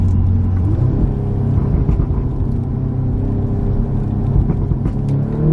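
An Audi S3 8V facelift with a Milltek non-resonated catback exhaust accelerates hard, giving a loud, continuous deep rumble whose engine note climbs steadily throughout, with no talking.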